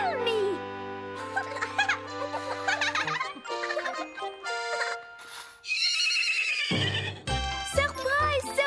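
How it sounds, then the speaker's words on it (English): A horse neighs loudly in a long whinny, with bright jingling tones and excited children's voices around it in a cartoon birthday scene. "We have brought this lovely horse just for you."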